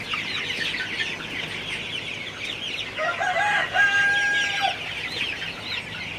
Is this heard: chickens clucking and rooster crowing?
yes